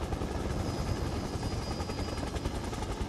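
A helicopter arrives during Resident Evil gameplay, its rotor thumping in a steady, fast pulse at close range with a thin high whine running through it.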